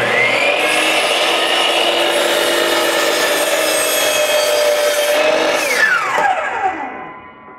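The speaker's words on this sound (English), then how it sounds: "So I'm gonna make a cut, see how far I am, then make my adjustments an inch in on it slowly." A power saw cuts an angled line through a wooden pool table rail, a loud, steady whine held for several seconds that drops in pitch under load and then spins down.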